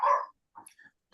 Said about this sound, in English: hope he don't get my dog to start barking